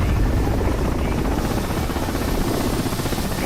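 A helicopter in a combat video game gives a loud, constant rotor thrum and buzz, steady and close throughout the brief moment around an infrared missile strike, with no voices.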